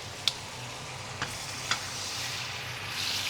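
A steak sizzles in a hot pan with an even, fairly faint hiss, marked by three short sharp clicks or taps as it is turned, the hiss swelling slightly at the end.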